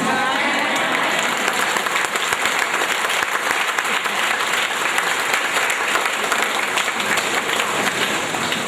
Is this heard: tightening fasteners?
no